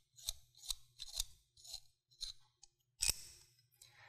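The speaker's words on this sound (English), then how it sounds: "We're going to loosen that bolt up, use a 1/2 inch wrench or socket to loosen that up." A 1/2 inch wrench or socket loosens a clamp bolt on a tonneau cover on a 2019 Dodge Ram 1500 truck bed, a close series of quick metallic ratcheting clicks in a rhythmic run, with no talk.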